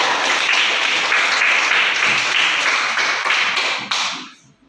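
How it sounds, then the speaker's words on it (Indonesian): A classroom group receives a round of applause, dense clapping from many hands held steady for about four seconds before tapering off to silence. "Aplaus untuk kelompok"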